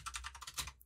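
Rapid clicking keystrokes on a computer keyboard, about eight quick taps in an uneven rhythm, close and clear with no voice over them.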